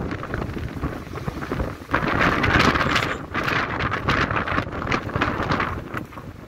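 Strong typhoon wind roars and gusts steadily outdoors, a dense, rushing noise that swells louder after the first couple of seconds and buffets the microphone throughout, with no voices.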